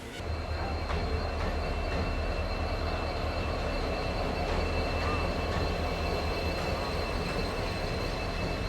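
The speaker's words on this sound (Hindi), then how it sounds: "7:28 का वक्त हो रहा है और ट्रेन हमारी आ रही है प्लेटफॉर्म नंबर 2 पे।" A passenger train pulls in at platform 2 of an Indian railway station. A loud, continuous rumble of wheels and carriages fills the whole stretch, with thin squealing tones from the wheels above it and no voices.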